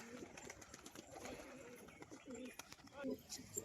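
Pigeons coo softly in a home loft, faint repeated throaty calls scattered under a low background murmur that could be distant voices.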